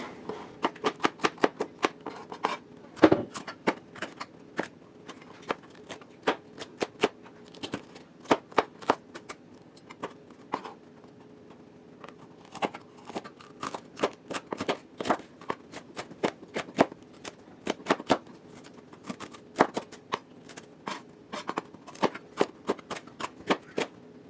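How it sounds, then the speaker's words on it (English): Knife chopping bell pepper, onion and jalapeno on a cutting board for a pressure-cooker soup: brisk, irregular runs of sharp taps, close and fairly quiet, with short pauses between bursts and no talking. "So I'm gonna get these chopped up, and then we'll chop up our onion."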